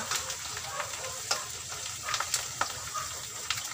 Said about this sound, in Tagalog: Ito na tayo magprito